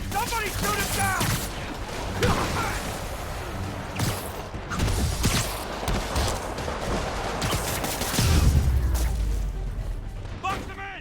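Enemy henchmen firing guns in the Marvel's Spider-Man video game during the Kingpin boss fight, a busy stretch of rapid shots, impacts and mechanical clatter with a deep boom near the end, while voices shout over it.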